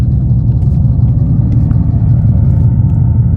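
Dodge Charger Daytona EV electric car playing its Fratzonic synthetic exhaust sound in drag mode, its loudest setting: a loud, steady, deep droning rumble that holds continuously without pauses.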